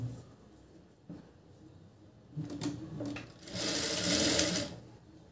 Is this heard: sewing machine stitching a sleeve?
yes